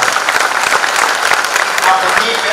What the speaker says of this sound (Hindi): आप तालियां बजा दीजिए एक बार।